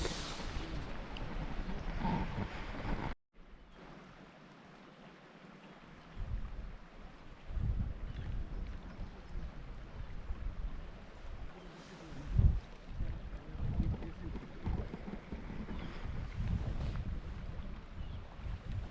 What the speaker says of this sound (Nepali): साउन्ड पनि एकदम नेचुरल नेचरको मात्र साउन्ड यता हल्का यहाँ कुलो बगेको हावा चलेको